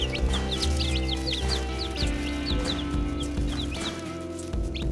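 Baby chicks peep in a rapid, overlapping chorus of high chirps close by, steady throughout over a constant low hum with faint bumps.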